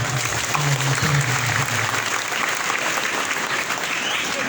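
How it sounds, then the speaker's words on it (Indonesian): Sustained applause from a large crowd at an Islamic religious talk, dense and steady clapping filling the whole stretch without a break. "Tepuk tangan untuk beliau."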